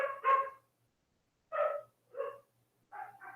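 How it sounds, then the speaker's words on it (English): A dog barks in four separate bursts with short silences between, fairly close and moderately loud, no talking. "Can you guys hear me, or is it too loud? The barking."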